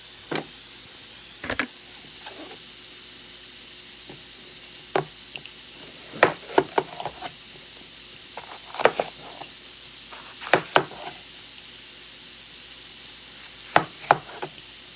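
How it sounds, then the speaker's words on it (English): Knife chopping a bell pepper on a cutting board, heard as scattered sharp cuts in small clusters, moderately close, with quiet kitchen background and no talk. "let's cut up a bell pepper"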